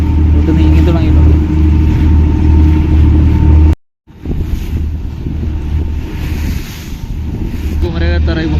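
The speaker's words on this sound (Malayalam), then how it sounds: "ബോട്ട് നീങ്ങി തുടങ്ങിയിട്ടുണ്ട്" A boat engine drones as the boat starts moving: a loud, steady low hum buffeted by wind noise. It cuts out briefly midway, and voices speak at times over it.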